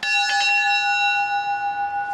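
A 51 kg village bell from Székelyföld rings out once, its bright, clear metallic tone with steady overtones hanging and slowly decaying over about two seconds, alone and close.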